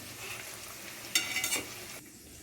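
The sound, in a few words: cabbage Manchurian balls frying in oil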